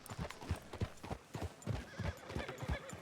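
Horse hooves clip-clop steadily in an open-world Western video game, a regular rhythm of close, fairly loud hoofbeats near a town street with a general store, gunsmith and sheriff's office, with no talk over them.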